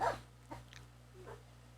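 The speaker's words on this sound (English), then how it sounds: "My dogs are barking." Dogs give a few faint, short barks and whimpers from a distance, spaced unevenly over a quiet background hum.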